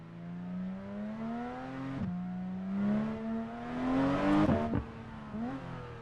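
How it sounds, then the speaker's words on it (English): A Porsche GT3 RS driven on the Momiji Line mountain course in a racing game, its engine climbing steadily in pitch through the gears with brief drops at each shift and a louder rising peak before braking. "we're going to drive it here in the GT3 RS just to kind of see"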